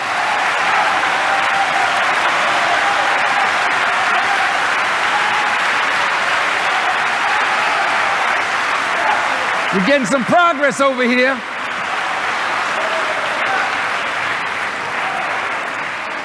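Sustained crowd applause at a Farrakhan talk on love and duty, a broad continuous wash of clapping that briefly gives way to someone speaking before the clapping carries on.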